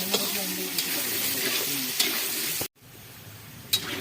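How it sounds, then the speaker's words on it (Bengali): Potatoes fry in hot oil, crackling and sizzling steadily close up with occasional utensil scrapes, and the sound cuts out briefly before resuming. "আলু দিয়ে দিলাম, ভালো করে লাল করে ভেজে নেব"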